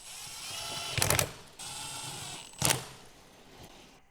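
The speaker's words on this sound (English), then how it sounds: "Torque these fasteners to 10 Nm between the core and the compressor housing." A torque wrench tightens the turbo cartridge fasteners between the core and compressor housing on a 2013-2020 Ford Fusion, giving two short, sharp mechanical bursts about 1.6 seconds apart over a steady background.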